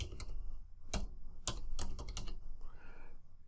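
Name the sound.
typing a username on a computer keyboard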